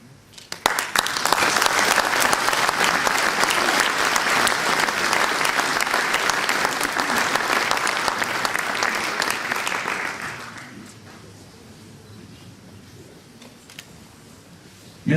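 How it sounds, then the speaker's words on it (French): An audience at a town's New Year ceremony in Veigné applauds medal recipients, a loud sustained wash of clapping for about ten seconds that fades to a quiet room with scattered small noises. "Merci de les avoir applaudis."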